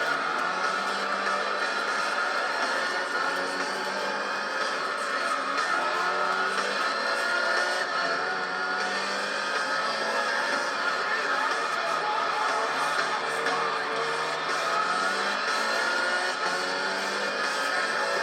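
Race car engines from Gran Turismo 3 drone and rev steadily throughout a race, loud and continuous, with a voice talking over the engine noise.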